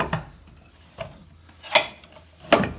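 Bench vise at a farm market, its screw mechanism turned by hand, giving three or four separate clicking, ratcheting metal knocks spaced about a second apart, close and fairly crisp.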